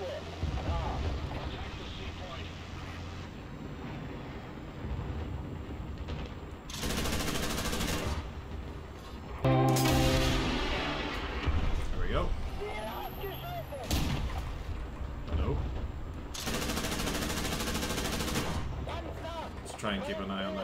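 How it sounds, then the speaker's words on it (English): Gunfire in a World War II style shooter with German forces, with repeated heavy bursts of shots and explosions over constant in-game engine and battle noise; someone talks over parts of it. "I sit still and fire."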